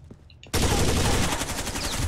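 Rapid automatic gunfire in a video game erupts suddenly after a quiet moment and continues as a loud, sustained burst of shots.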